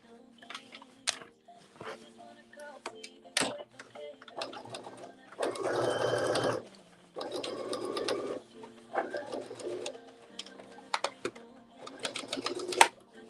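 A sewing machine runs a basting stitch on jeans in several short bursts, stopping and starting with brief pauses, close and fairly loud, with clicks and handling noises in between.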